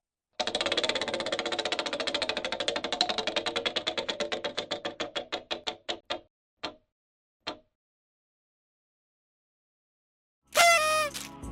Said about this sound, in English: taking a spin on the final Jeopardy wheel